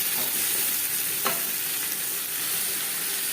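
Hog plums (amra) frying with panch phoron spices for a chutney, a steady close hiss of sizzling oil with one brief scrape of a stirring spoon.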